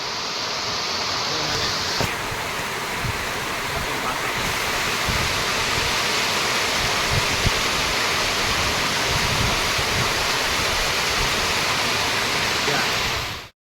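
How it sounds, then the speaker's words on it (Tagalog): Heavy thunderstorm rain pouring down steadily at a poultry farm with Dekalb Brown layer hens, a dense, loud, unbroken hiss that holds constant before stopping abruptly. "Kahit napakalakas ng ulan, no?"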